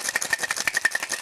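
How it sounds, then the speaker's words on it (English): Rapid rhythmic rattle of ice cubes being shaken hard in a cocktail shaker while making a mezcal cocktail, steady and close, with no talking. "And we'll shake this one up."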